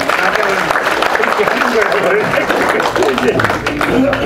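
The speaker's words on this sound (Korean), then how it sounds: "박수 한번 큰 박수 부탁드립니다." Crowd applause at a commemoration event for the 62nd anniversary of the May 16 revolution, steady clapping from an audience mixed with voices and cheering throughout.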